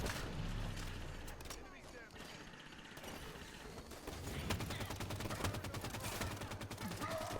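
Squad gunfire rattles at an enemy turret in Halo 5: Guardians, with loud, rapid automatic bursts and booming impacts that grow denser toward the end, under a narrating voice.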